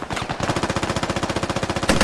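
Rapid automatic gunfire in the military shooter game Squad, a tight, evenly spaced burst of around twenty loud shots over two seconds, close and continuous with no talk.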